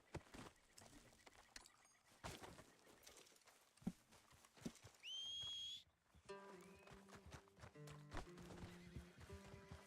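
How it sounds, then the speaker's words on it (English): A horse whinnies and its hooves clip-clop over quiet background noise, with scattered footfalls and a brief whistling tone, all fairly faint. "Where are you going, horse?"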